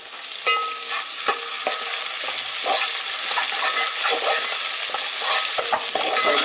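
Vegetables and chillies for a street-style veg chowmein sizzle loudly in a hot pan on a fast flame. Steady frying sound runs throughout, with frequent scraping and clinking stir strokes close up.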